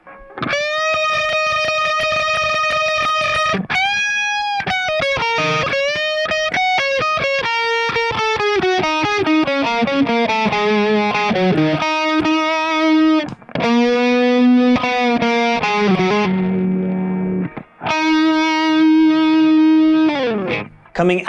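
Distorted electric guitar riff, played close and alone, with sustained bent and sliding notes, brief pauses between phrases and a few muted gaps.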